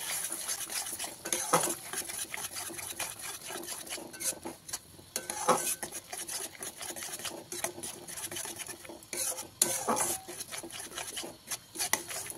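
Sour yogurt is stirred into paneer masala in a pan over a low gas flame, giving quiet, repeated spoon scrapes and clinks against the pan over a faint, low sizzle.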